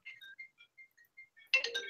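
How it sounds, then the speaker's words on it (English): A shop telephone rings in short electronic chirps, a rapid string of faint tonal beeps with a louder, fuller burst of ringing at the end. "Why is that phone ringing?"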